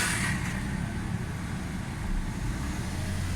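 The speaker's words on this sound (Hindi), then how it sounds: "ये देखिए, AC के साथ RPM पूरे ऊपर चले गए हैं" A Toyota Corolla GLI EFI engine idles with the air conditioning on and the revs raised, a steady low rumble holding throughout with no speech.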